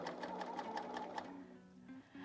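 A coverstitch sewing machine with a hemmer attachment sews a hem, running in a fast steady rhythmic stitching burst that stops partway through, leaving a low hum afterward.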